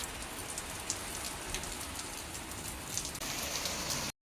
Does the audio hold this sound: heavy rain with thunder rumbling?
yes